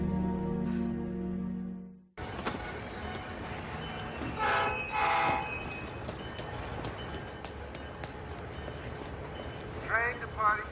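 A train pulling out of a station platform: rumbling and rattling cars with squealing wheels and a horn-like tone, loud and near, with voices and a public announcement over it.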